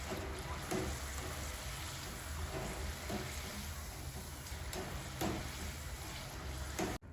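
Chickpeas deep frying in hot oil for crispy Dhaba-style chana koliwada, a faint, continuous bubbling sizzle with occasional soft clinks and scrapes, steady throughout with no voices.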